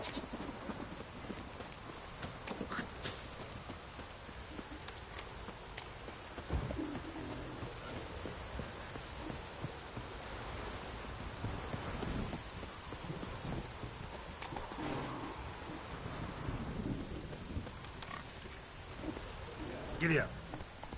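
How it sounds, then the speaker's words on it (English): Steady heavy rain pours in a game world, a continuous wide hiss with a few sharp cracks and low rumbles of thunder, while a voice talks over it and hooves clop faintly in places. "This downpour's a bastard, it is."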